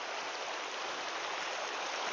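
River water rushes steadily at a bend in the channel near a bridge, a loud, continuous broadband roar with no pauses.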